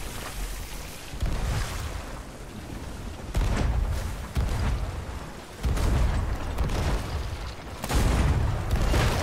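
Repeated heavy ship cannon blasts in the pirate game Sea of Thieves, four or five loud booming shots spaced a couple of seconds apart over a continuous rumbling background.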